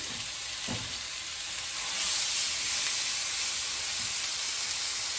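Meat-topped sfiha flatbread laid meat-side down into hot oil gives a steady close sizzle with crackling hiss, swelling louder after a couple of seconds and holding, with no talking.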